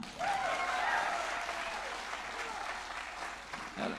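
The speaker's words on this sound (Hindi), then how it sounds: "एक बार जोरदार ताली।" At a comedy performance in Bundelkhand, an audience applauds with steady, dense clapping across the whole stretch, at moderate distance. A brief vocal whoop or cheer rises near the start.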